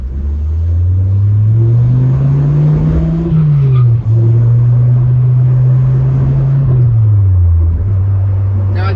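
A 1994 Dodge Viper pulls away with a deep, loud engine drone close by, revs climbing steadily, dipping briefly at a gear change, then rising again before another shift.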